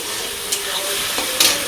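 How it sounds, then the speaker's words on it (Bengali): Onions sizzle in hot oil in a kadai with a loud, steady crackle. Sharp scrapes from stirring stand out twice near the end. "পেঁয়াজটা এই যে ভাজা ভাজা হতে হতে মশলাটা আরেকবার ঘুরিয়ে নেই।"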